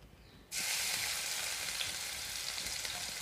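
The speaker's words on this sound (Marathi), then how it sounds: "तर आता आपण हे तेलामध्ये टाकूया, तळून घेऊया।" Coarsely chopped garlic hits hot oil with a sudden loud sizzle that starts just after a quiet moment and then holds steady as continuous close frying, with no voices.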